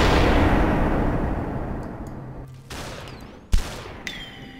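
Gunfire in the shooter SUPERHOT, a booming blast decaying into a long rumbling tail, followed by a sharp crack and a smaller pop later, with no talk.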